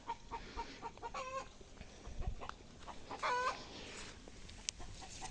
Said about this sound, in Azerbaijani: Toyuq da deyir ki, yumurta hazırdır,